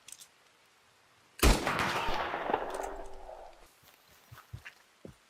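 A single loud gunshot rings out during a legendary bear hunt in the video game Red Dead Redemption 2. A long echoing tail fades over about two seconds, followed by faint scattered footsteps.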